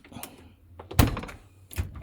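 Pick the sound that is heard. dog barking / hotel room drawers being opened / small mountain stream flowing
hotel room drawers being opened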